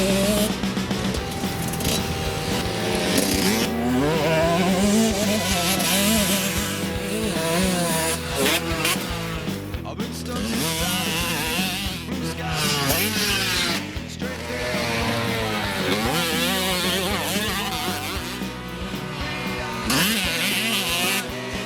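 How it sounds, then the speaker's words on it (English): Husqvarna CR150 two-stroke motocross bike fitted with a 150 kit, ridden at a motocross track, its engine revving and rising and falling in pitch continuously at close range with no pauses. "today we're testing the Husqvarna CR150 with a 150 kit on it"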